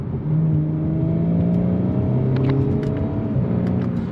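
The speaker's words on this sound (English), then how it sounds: "you guys can hear that nice Audi exhaust" A 2018 Audi B9 S4 Prestige exhaust drones steadily through a downshift while driving, its engine tone stepping up and sliding back down in a continuous, fairly loud rumble with no talking.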